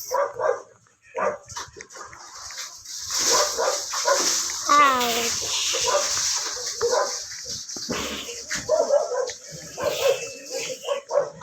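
Dogs in a Roblox game bark and yip repeatedly in bursts, including a high whimpering cry, mixed with people talking and a shouted exclamation.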